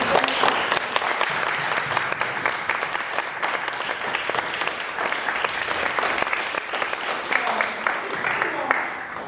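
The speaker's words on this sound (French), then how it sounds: "Et je veux bien un petit applaudissement." An audience at a French press breakfast on organic food breaks into steady, dense applause that fills the room, with many hands clapping continuously at fairly close range.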